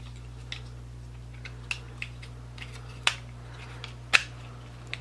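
Plastic parts of a POTP Snarl transforming toy figure click together in a few sharp, close snaps spread over several seconds, with quieter handling ticks between them.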